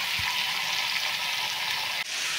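Mutton frying in oil with spices sizzles in a dense, continuous hiss close up, with a faint stir and a brief scrape near the end.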